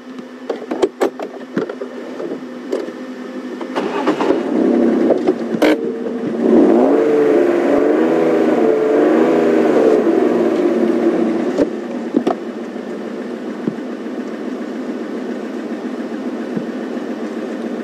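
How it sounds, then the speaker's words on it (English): A safari vehicle engine starts amid a few clicks, rises into a steady idle with a rev that swells for several seconds, then settles back to a lower, even hum. "I'm going to give you a rev"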